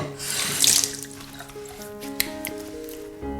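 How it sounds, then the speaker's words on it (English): Tap water running into a bathroom sink while a face is wetted during a morning skincare routine, a steady close gush with brief splashes and drips, quiet and alone. "the first thing I like doing is just to wet my face a bit."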